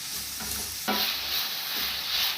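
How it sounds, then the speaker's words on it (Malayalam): Vegetables for a Kerala-style vegetable biryani are sautéed in a pan: a quiet stir, then a sudden burst of bright sizzling that carries on steadily at close range. "നമ്മൾ ചേർത്തിരിക്കുന്ന വെജിറ്റബിൾസിൻ്റെയൊക്കെ പച്ചമണം ഒന്ന് മാറാനായിട്ട് ഒരു 2 മിനിറ്റോളം നമുക്കിങ്ങനെ ഒന്ന് വഴറ്റി"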